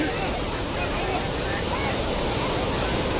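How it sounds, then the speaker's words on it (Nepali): A swollen, flooding river in Nepal rushes in a dense, continuous roar, loud and unbroken, with faint wind noise on the microphone. "खोला कत्रो आयो है त्यो बुढो मान्छे भ्याएन यार"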